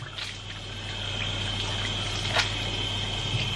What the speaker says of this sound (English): I'm just gonna rinse my face.